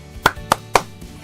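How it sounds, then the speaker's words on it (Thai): Three crisp hand claps, evenly spaced and close by, with quiet in between. "นี่ครับ ปรบมือ 3 ครั้ง"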